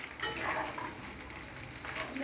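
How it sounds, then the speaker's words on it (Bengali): Vegetarian chili protein pieces deep-fry in hot oil, giving a faint, steady bubbling sizzle throughout. "একটু লাল লাল করে ভেজে নেবো এগুলো সব কটা।"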